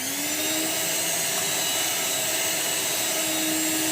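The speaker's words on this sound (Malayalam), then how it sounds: "കുറേശ്ശെ ഇട്ട് ബീറ്റ് ചെയ്തിട്ടെടുക്കാം" An electric mixer whirs steadily, beating egg whites with sugar added little by little for a cake batter, a continuous high-pitched motor whine close up with no talk.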